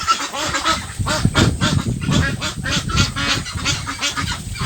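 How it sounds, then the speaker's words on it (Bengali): Farm ducks bathing in the rain give a loud, near chorus of nasal honking quacks, overlapping and continuous throughout, with no voices. "খামারের হাঁসগুলো ওরা গোসল করতেছে"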